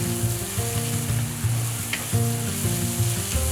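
Bamboo shoots seasoned with turmeric and pink salt hiss and crackle in a hot pan as they are stir fried, a close, dense, continuous sizzle.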